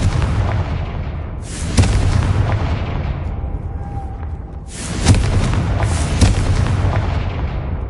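The Confringo explosion spell in Hogwarts Legacy, with two heavy, booming blasts a few seconds apart, each followed by a rumbling roar that lingers and fades.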